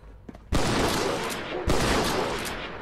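Two heavy gunshots ring out in the Fallout 4 video game, loud, close and spaced about a second apart, each leaving a long rumbling echo.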